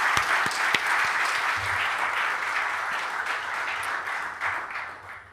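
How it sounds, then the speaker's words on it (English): An audience at an ICAO council ceremony applauds in a sustained burst of dense clapping with a few sharp individual claps, fading away at the end. "Another round of applause, please."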